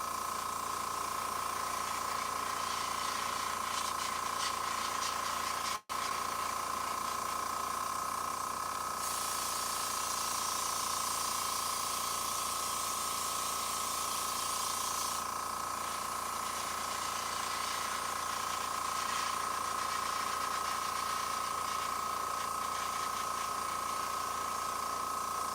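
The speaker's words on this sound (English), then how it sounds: "Oh, that's spraying really good. I highly recommend this paint for airbrush." An airbrush sprays Citadel paint onto Warhammer 40K terrain with a steady hiss. The hiss continues with one brief break and thickens in the middle stretch, alongside a constant tone.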